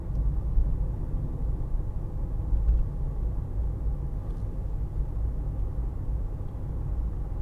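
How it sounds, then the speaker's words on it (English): A 2018 Skoda Fabia hatchback with a 1.0 TSI 95 PS engine ticks over at about 1,000 rpm in fifth gear, giving a steady low cabin rumble with road noise and no voices. "basically, this car is ticking over"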